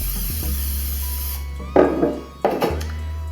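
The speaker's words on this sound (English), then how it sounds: "you're going to take cooking spray. You're going to spray a large" Two short hissing bursts of cooking spray into a large cake pan, close and clear, following a low hum that cuts off.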